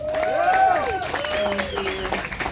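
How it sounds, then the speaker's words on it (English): An audience applauding to welcome a performer to the stage, the clapping and crowd noise running under loud tonal whistles and whoops, with voices mixed in. "Everyone please give a round of applause and welcome Crystal Cook."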